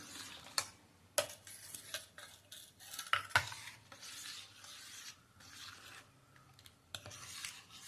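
Ambadi greens being stirred and mixed in a pot with a utensil, giving a quiet run of scraping, rubbing strokes and a few sharp clinks against the metal, with no talking.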